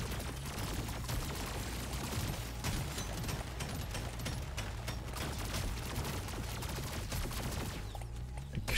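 Overclocked plasma carbine firing continuously in Deep Rock Galactic on Hazard 4, a dense rapid stream of shots layered over battle noise, steady and fairly loud, stopping near the end.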